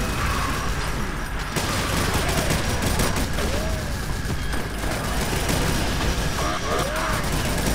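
Dense, continuous gunfire and explosions from Doom with the Project Brutality mod, loud and unbroken throughout, with chaotic combat noise and no clear speech.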